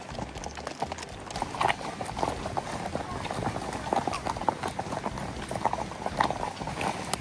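A horse's hooves clip-clop in a steady walking rhythm on a mountain trail ride in the Alps, close by and continuous, with people talking over the hoofbeats.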